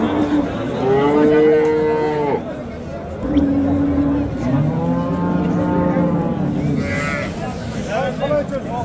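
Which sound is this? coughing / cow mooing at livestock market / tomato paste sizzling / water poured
cow mooing at livestock market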